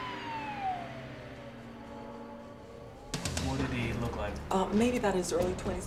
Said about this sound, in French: En entendant des sirènes à l'extérieur, l'homme avait paru nerveux et agité.